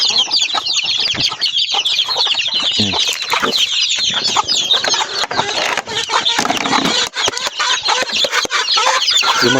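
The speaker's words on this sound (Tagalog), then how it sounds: "Yung mga manok muna pakain natin." Farm chickens cluck loudly and continuously at feeding time, a dense chattering flock close by with occasional wing flaps, and faint voices under the calls.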